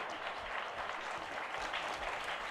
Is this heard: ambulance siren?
no